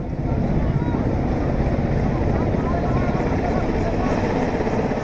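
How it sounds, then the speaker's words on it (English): An Indian Air Force helicopter hovers during a rescue after a cable car collision, its rotor and engine roar forming a loud, continuous, even drone throughout. "pictures of an IAF chopper pulling out a little girl to safety"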